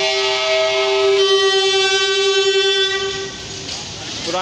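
The 16 Down Karachi express passes a station in Pakistan, with a loud, sustained horn blast up close over the rumble of the train, the tone shifting as it passes, then fading into rolling rail noise.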